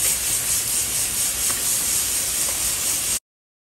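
Fish fillets frying in hot oil give a loud, even hiss that holds steady for about three seconds and then cuts off abruptly into silence.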